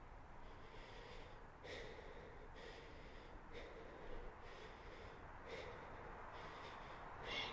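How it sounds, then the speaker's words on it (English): Patient's breathing during a medical check in the video game Quarantine Zone: a steady run of rough, snorting breaths, about one every second, close and moderately loud, with no talk over it. "Let me hear your breathing"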